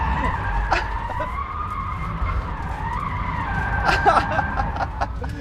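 A Rimac Nevera electric car in drift mode slides with its tires skidding and squealing continuously, the screech rising and falling as the slide is held.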